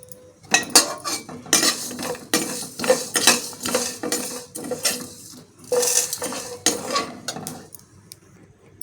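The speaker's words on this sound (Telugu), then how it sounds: "ఈ మసాలా వచ్చేసి మనం ఫ్రై చేసుకుందామండి." Fish curry masala frying and being stirred in a pan, with repeated metal utensil scrapes and clinks against the pan in an irregular rhythm, close and fairly loud, no talking.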